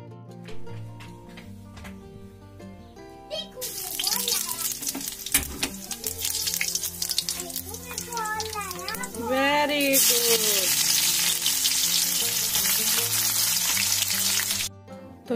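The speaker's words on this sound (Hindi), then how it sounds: "यहाँ पर मैंने लोहे की कढ़ाई में ही छौंक रही थी" Onions and mushrooms sizzle loudly in a hot iron wok, the frying hiss starting a few seconds in and continuing steadily over tonal background music.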